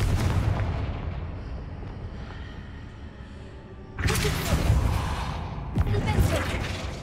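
A Confringo fire spell in the Hogwarts Legacy video game sounds over a low rumbling game backdrop, then two loud, booming explosive blasts burst out in quick succession near the end.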